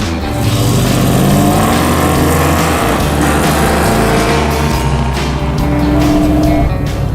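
A Dodge Challenger, the Vanishing Paint car, drives on the open road. Its engine drones loud and steady from inside the car, with a deep rumbling note that shifts slightly in pitch over seven seconds.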